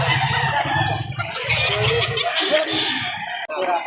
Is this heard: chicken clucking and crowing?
yes